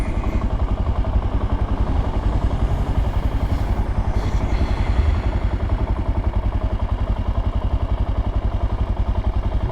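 A Suzuki DR-Z motorcycle fitted with an FMF PowerBomb header idles steadily up close, a continuous low, loud thumping single-cylinder putter with no speech.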